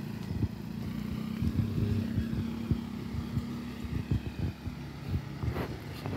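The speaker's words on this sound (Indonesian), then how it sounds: "Ada motor lewat guys" A motorcycle passes along a street near the Ciliwung river during a morning walk. Its engine gives a low, steady drone with uneven bumps and some wind rumble, at moderate distance, with no speech.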